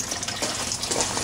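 Water drains from the grow beds of a small home aquaponics system in a steady, close rushing gush that never lets up.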